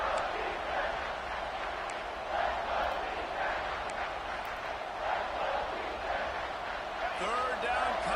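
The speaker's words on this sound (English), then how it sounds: "with this place rocking, the crowd forces a false start" A roaring stadium crowd fills a college football video game, a steady loud wash of noise with swells, heard behind commentary.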